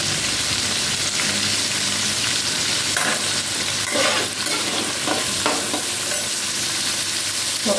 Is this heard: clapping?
no